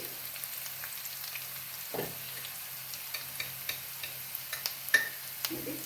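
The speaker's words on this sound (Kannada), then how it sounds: "ಕರ್ಬೇವಿನ ಸೊಪ್ಪು ಮತ್ತು ಈರುಳ್ಳಿ ಹಸಿಮೆಣಸಿನ್ಕಾಯಿ ಹಾಕ್ಕೊಂಡು ಫ್ರೈ ಮಾಡ್ಕೊಳ್ತಾ ಇದ್ದೀನಿ ನೋಡಿ ಫ್ರೈ ಆಗ್ತಾ ಇದೆ" Curry leaves, onion and green chillies fry in hot oil for mango rice, giving a steady soft sizzle broken by small ticks and pops from stirring, with no talking.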